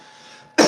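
A single short, sharp cough from a young child at home, close and loud, bursting abruptly out of quiet room tone at the very end.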